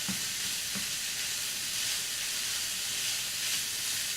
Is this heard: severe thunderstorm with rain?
no